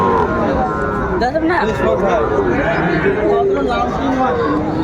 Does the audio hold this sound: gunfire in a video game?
no